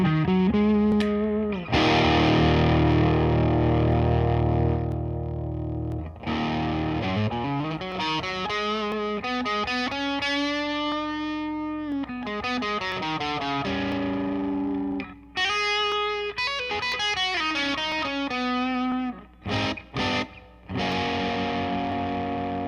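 Heavily distorted electric guitar with humbucker pickups played through a Marshall DSL40 amp on the red mode of the classic gain channel with the gain cranked, loud sustained chords and melodic phrases played alone.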